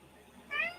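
A cat gives a single short, clear meow, close by and fairly soft, over quiet room noise.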